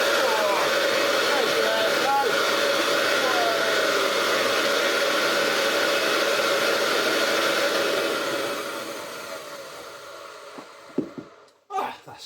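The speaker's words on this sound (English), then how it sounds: "we know that the motor runs really well. In fact, we can may as well run it without the belt." A Hoover Junior 375 upright vacuum cleaner motor runs with the belt removed, giving a loud, steady whine and rush that holds for about eight seconds, then winds down with a few knocks and handling sounds at the end.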